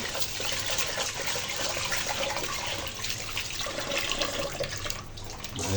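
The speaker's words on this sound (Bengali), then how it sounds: "এই যে এবার আমি ধুয়ে নিচ্ছি চালগুলো।" Rice is washed by hand in water, a continuous close sloshing and splashing with running-water texture throughout, no voices.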